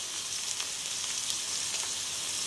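Blackened steak sizzling in a hot pan, a steady dense crackle and hiss with small pops, close and continuous with no voices.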